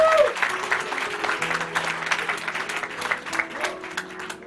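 Wedding guests at a church ceremony clap together in a brisk burst of applause, close and fairly loud, with faint sustained musical tones underneath.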